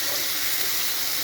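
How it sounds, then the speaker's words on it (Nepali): Ghee frying in a pan for a water snail dish, a steady dense sizzle held at even loudness throughout, close and alone. "यहाँनिर घिउ चाहिँ फ्राई हुँदैछ टक्कसँग"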